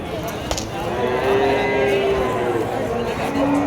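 Calves and cattle at a native cattle market in Vaniyambadi, lowing in long drawn moos, one after another over a steady crowded hum of the market, with people talking nearby.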